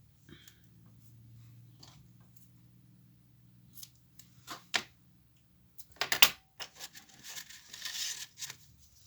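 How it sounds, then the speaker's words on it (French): Sharp ripping and crackling bursts as a strip of double-sided tape is pulled and torn, with a few quieter clicks and rustles before. "Donc, un bout de scotch double face."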